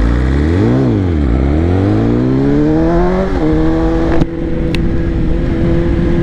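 A BMW M 1000 XR Competition motorcycle rips loud and close, its engine note rising, dipping through a gear change, then climbing steadily in a long hard acceleration with a brief shift blip near the end.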